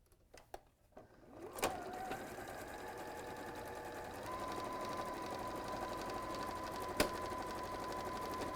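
A domestic sewing machine runs a straight seam in one steady, continuous whir after a few clicks of setup, fairly close and even in pace, with a brief sharp knock partway through.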